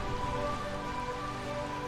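Steady rain falls in Final Fantasy IX's rain-soaked realm of Burmecia, a dense continuous patter with no talking over it.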